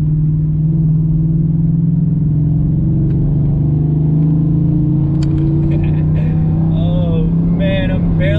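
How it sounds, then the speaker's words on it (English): Truck cruising fast in fifth gear at about 80 mph on a gravel-strewn road, a loud, steady low engine and road rumble throughout with faint higher chirps late on. "I'm barely in fifth gear. I'm going at 80 miles per hour."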